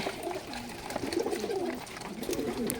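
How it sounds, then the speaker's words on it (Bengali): Giribaz pigeons coo softly while pecking at scattered grain at feeding time, a few overlapping low burbling calls repeating at close range over a faint background. "এই কবুতর খাবার খাচ্ছে দানা দিয়েছে"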